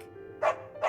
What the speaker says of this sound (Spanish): Ah, un perro esqueleto.